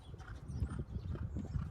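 A horse jogs or gallops with rapid, rhythmic hoofbeats thudding close by, a quick repeating clip-clop with no voices over it.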